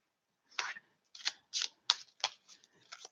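Tarot cards being shuffled by hand, heard as about seven short, crisp riffling bursts spaced roughly every half second, close and quiet in an otherwise silent room.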